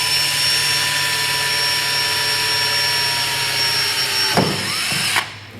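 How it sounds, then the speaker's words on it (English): A drill bit grinds through a hardened fastener on the Arrow Competition full exhaust of a 2015-17 Yamaha YZF-R1, giving a steady, loud, high-pitched whine throughout, with a couple of brief clunks near the end. "you're drilling through a hardened fastener"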